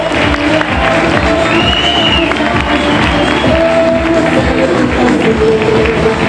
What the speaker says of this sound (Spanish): E tanto, un aplauso muy fuerte.